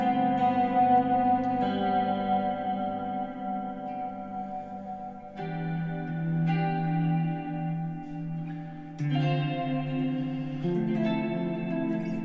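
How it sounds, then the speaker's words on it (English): An Enya Sonic guitar plays sustained chords through a long reverb effect, each strum blooming and washing out into a lingering tail as the chords change every few seconds, with no voices present. "We can really go in with some long reverb here."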